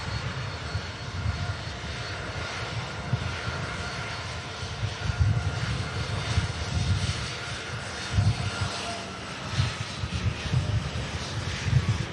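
An Airbus A320neo takes off at Manchester Airport, its jet engines giving a steady, moderately distant broadband roar with low rumble that holds for about twelve seconds.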